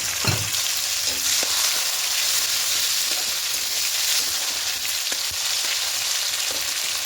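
A large tomato frying in a pan of hot oil with whole garam masala, cinnamon, cardamom, cloves and two bay leaves, a steady loud sizzle running throughout with a few soft stirring clinks.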